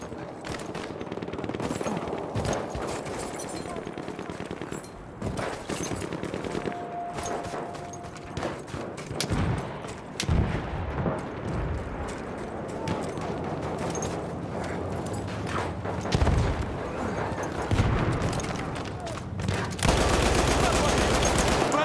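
Lewis gun bursts in a video game battle on the Tsaritsyn map, rapid automatic fire with scattered distant shots and background battlefield noise throughout, and occasional voices calling out.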